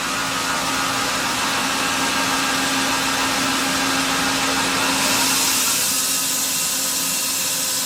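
A 2008 Doosan Puma 400 CNC lathe spindle runs at 500 RPM, producing a loud, steady machine whir and hum with a constant tone. The noise shifts slightly brighter partway through and continues without a break, with no talking.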